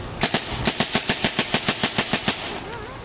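A Tippmann A5 paintball marker fires a rapid string of about fifteen sharp, evenly spaced pops in a little over two seconds, close and loud, then stops.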